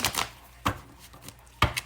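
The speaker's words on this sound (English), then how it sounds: "This is the second shuffle." Tarot cards being shuffled by hand produce a few brisk, separate riffling bursts, close and moderately loud, with quiet gaps between them and no talking.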